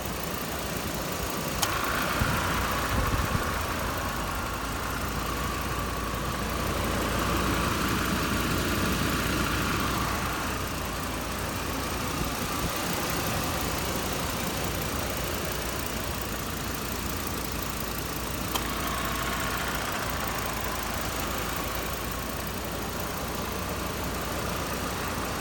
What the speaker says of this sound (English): See how quiet the engine is.